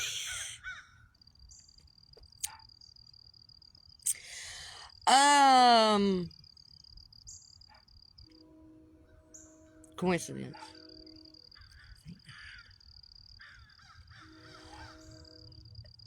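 Crows caw outdoors in a few loud, harsh calls spread apart by quiet, with other birds faint in the distance and someone speaking briefly.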